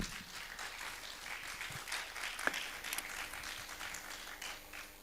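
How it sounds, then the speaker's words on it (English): Audience applause at an academic colloquium, a sustained patter of many hands clapping through the whole stretch, fairly even in loudness, with a single sharper clap near the middle. "Can we give him a round of applause once more time?"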